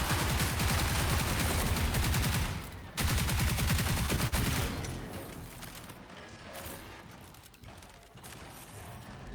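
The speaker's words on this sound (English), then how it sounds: "Look at this gun. It's a light machine gun." A light machine gun in the game Marathon fires a long, dense, rapid burst, loud and close, with one brief pause before resuming, then the firing thins out and fades into other combat noise.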